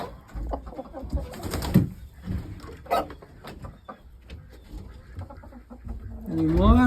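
Hens on a homestead cluck and murmur in short, scattered bursts at close range while a person talks to them, with a louder squawk rising near the end.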